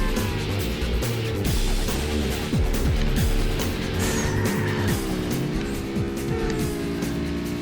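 A racing car power-sliding through a downtown stretch in Burnout 2: Point of Impact on PS2, engine revving loudly with shifting pitch and tires squealing through the drift, close and steady with no talk.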